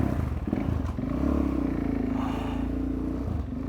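A motorcycle engine runs close by in a low, steady, throbbing idle with a light mechanical clatter. It keeps going with no voices.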